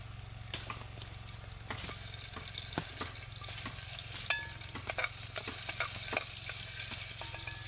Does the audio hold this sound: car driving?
no